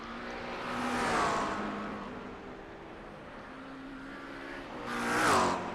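A GT3 race car in iRacing at Chicago, engine tone swelling and fading as the car passes, rising to louder revving peaks near the start and end.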